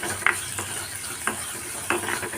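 Sliced onions are sautéed in a pan for mackerel curry, with a low continuous sizzle and a few spatula scrapes and taps spaced through the short stretch.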